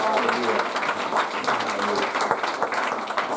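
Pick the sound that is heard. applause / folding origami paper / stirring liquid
applause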